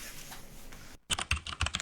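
Computer keyboard typing in a radio station ad, a burst of quick, crisp key clicks starting after a short silence, close and fairly loud with uneven rhythm.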